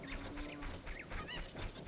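Repeated nasal clucks from a cucco chicken in Ocarina of Time on N64 hardware, four or five quick calls at a steady rhythm, quiet and mixed into dense game ambience.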